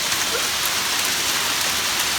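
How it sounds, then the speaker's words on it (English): Hail pelting a shelter roof during a storm, a dense steady hiss of pattering impacts that stays loud and unbroken throughout with no voices. "hopefully the hail passes because it's really hurting my hat"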